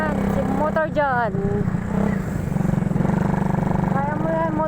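A motorcycle carrying several passengers drones steadily at low pitch, its engine straining as it labours uphill, while riders talk loudly over it throughout.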